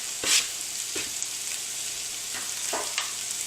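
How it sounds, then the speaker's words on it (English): Vegetables with garlic sizzle steadily in a hot skillet, a constant hiss broken by a few scraping stirs, close and moderately loud. "You got a little bit of a sizzle going on there."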